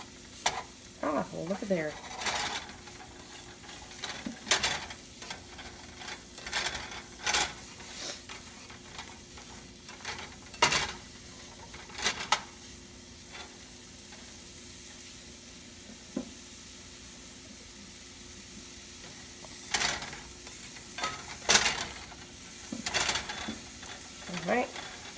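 A spatula stirs meatballs through a parmesan mushroom sauce in a pan, making intermittent scrapes and clacks over a low simmering sizzle, with a brief spoken remark partway through.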